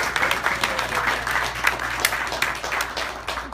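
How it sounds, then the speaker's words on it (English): A concert audience applauds for the mothers in the crowd, a dense, steady patter of many hands clapping that lasts throughout at moderate loudness, with no talking over it. "Round of applause for the moms."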